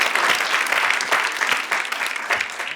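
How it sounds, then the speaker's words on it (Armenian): An audience at a live evening entertainment show applauds, a dense, steady wash of clapping that holds loud for the whole stretch without a pause. "բարձր ծափարում ենք"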